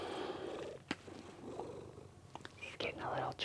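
A slightly chunky cat named Mr. Tatters, kept on a diet, purrs steadily and close by, a soft continuous rumble broken by a few small clicks and a faint, brief voice near the end.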